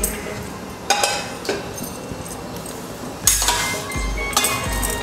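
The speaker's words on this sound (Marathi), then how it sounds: "आणि कढई ठेवते." A metal kadhai is set down on a gas stove, giving several sharp metallic clanks and clinks spread across a few seconds over a low background hum.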